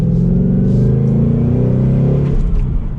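Close, loud V8 roar from a 2022 Ford Mustang GT coupe with the 5-liter engine and six-speed manual, pulling hard under acceleration, its deep rumble climbing steadily in pitch over three seconds.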